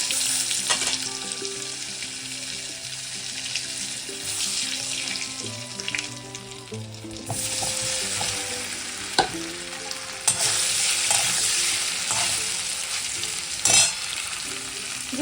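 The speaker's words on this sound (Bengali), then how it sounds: "বাটার দিয়ে পনিরটাকে ভাজবো" Paneer frying in a wok in white oil and butter, with a loud, continuous sizzle close by, broken by stirring scrapes and clinks and a brief burst of running water.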